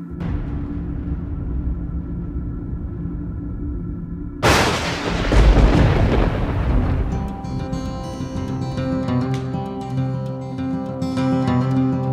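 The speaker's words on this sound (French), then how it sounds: "Ça s'appelle un orage." A thunderclap from an approaching thunderstorm over open country bursts in suddenly as a loud, broad rumble, then rolls on and fades into a steady outdoor background with a faint tonal hum beneath.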